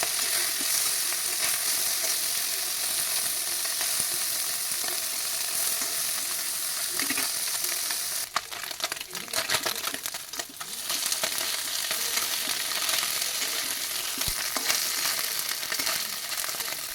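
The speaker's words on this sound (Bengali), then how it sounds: "বাকি যে মাছগুলো আছে আমি সেগুলো ভেজে নেবো এবারে।" Fish sizzles steadily in hot oil in a pan, a continuous dense frying hiss with a brief louder burst of crackle midway as pieces are turned.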